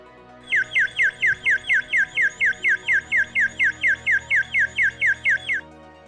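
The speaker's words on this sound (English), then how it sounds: "sounded a whistle that resembled a bird's repetitive chirping" A water clock's alarm whistle sounds a fast string of about seventeen identical, sharp chirps, like a bird calling repetitively, clear and close over a quiet background before stopping abruptly.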